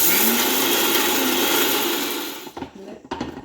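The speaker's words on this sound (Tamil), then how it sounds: "இதுக்க போட்டு மிக்சிக்க போட்டு அறுவல் நொறுவலை அரைப்போம்" Mixer grinder coarsely grinds Jaffna-style sambal powder from roasted chillies in a loud steady whir lasting over two seconds, then cuts off, followed by a few rattling knocks as the jar settles.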